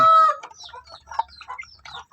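Free-range native chickens about 1.5 months old cluck in quick, overlapping bursts at close range, a loud squawk opening before a steady busy chatter of several birds.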